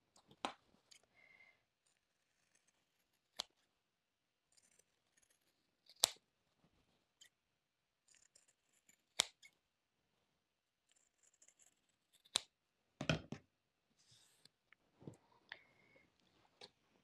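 Scissors snip through fabric to cut out template pieces for a sling bag, making quiet, sparse, crisp clicks and short cutting strokes at irregular intervals with near silence between them.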